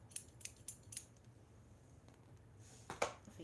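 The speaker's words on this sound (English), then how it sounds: "Oh, these scissors." Scissors snip yarn during a crochet session, four quick crisp cuts close to the microphone, then a pause and another pair of snips in a quiet room.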